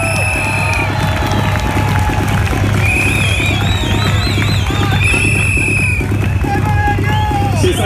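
Roadside spectators cheer and clap at the Orbetello–Frascati cycling stage finish in Frascati, a dense, loud, continuous crowd roar with whistles and horns, a steady low hum and a commentator's voice partly underneath.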